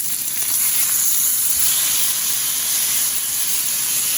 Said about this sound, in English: Just some frozen patties I had. She liked them, so I got them cooking.